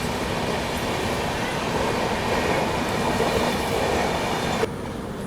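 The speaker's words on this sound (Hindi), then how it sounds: "ये भाई आप लोगों की जो है ललित ग्राम नई दिल्ली वैशाली एक्सप्रेस" The Lalitgram–New Delhi Vaishali Express rolls past close by, a loud, steady roar of wheels and carriages with faint clickety-clack that holds for about five seconds before cutting off abruptly near the end.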